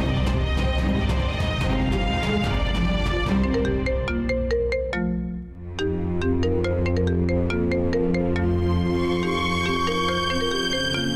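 A phone ringtone plays loudly and continuously, a bright repeating electronic melody with a brief dip midway before the tune resumes.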